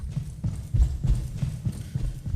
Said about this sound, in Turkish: Lan ayak sesi geldi.